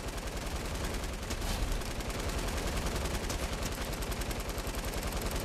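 Rapid automatic gunfire from a Fortnite match, a dense unbroken stream of shots at steady volume for several seconds with no voices over it.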